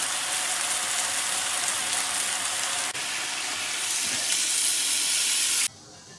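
Beef heart and liver stir-fried in a hot wok with cooking wine, ginger, salt and oyster sauce give a loud, steady, hissing sizzle for about six seconds before it drops away abruptly.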